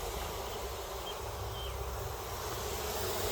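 Honeybees fanning at the entrance of a hive just after a split, a steady dense buzz holding at an even level throughout with a low rumble of wind beneath, no voices.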